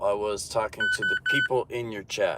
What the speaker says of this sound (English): that's the phone beeping at me